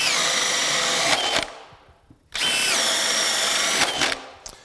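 A cordless drill in drill mode at speed level 3 whines loudly in two long bursts, boring with a 1-inch spade bit, with a brief spin-down and pause between them.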